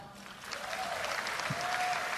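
A congregation at an El Shaddai healing service clapping together, a continuous crowd of hands building slightly in loudness, heard from a distance.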